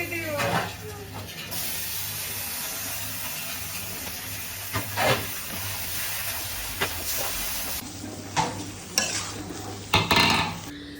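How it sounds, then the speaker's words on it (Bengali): Bitter gourd, potato and shrimp frying in a pan, a steady hiss and sizzle with spatula scrapes and clinks of metal on the pan, growing busier toward the end. "করলা আলু আর চিংড়ি ভাজি এখন"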